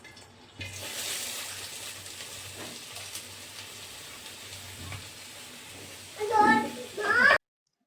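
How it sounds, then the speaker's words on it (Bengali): Chopped onions frying in oil in a wok, a steady soft sizzle running throughout with a few louder sputters and crackles near the end before it cuts off. A voice talks over it. "পেঁয়াজটাকে আমরা ভালোভাবে ভেজে নেব।"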